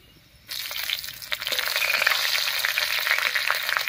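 Slit green chillies hit hot oil with ginger and spices, bursting into a sudden loud sizzle after a quiet moment, then crackling and spitting steadily with brief stirring sounds.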